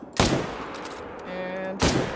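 Two loud rifle shots ring out in a deer hunting video game, each a sharp blast with a fading tail, about a second and a half apart, with a brief tonal game sound between them.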